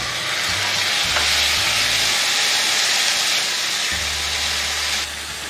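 Onions frying with whole coriander seeds, ajwain and ginger-garlic paste, a loud steady sizzle and hiss with a low hum underneath that drops away near the end.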